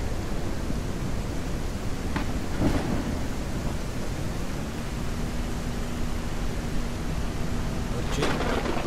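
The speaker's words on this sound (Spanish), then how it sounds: "La tormenta es increíble." A thunderstorm in the video game Ranch Simulator: steady rain hiss with two sharp thunder cracks, one early and one near the end, plus a low tonal hum that enters midway, with no talking.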